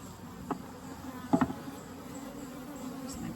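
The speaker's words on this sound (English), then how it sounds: "what I need to do is shake these bees down" Honeybees buzz steadily around an open 24-frame Layens horizontal hive during an August inspection, with a constant close drone and a few sharp knocks and clicks of frames or tools, and no one talking.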